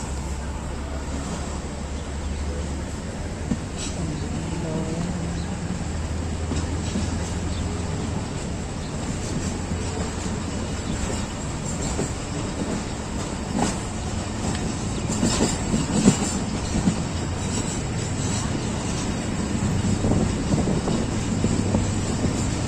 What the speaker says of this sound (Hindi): फोर्टीन डाउन अवाम एक्सप्रेस के साथ क्लास के बाद इस्लामाबाद से रवाना।